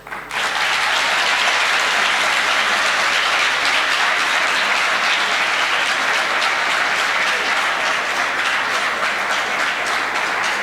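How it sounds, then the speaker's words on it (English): Standing ovation at a university class of 2019 graduation ceremony: loud, dense, sustained applause from a large crowd, starting suddenly and continuing evenly for about ten seconds. "I think a standing ovation is appropriate at this point."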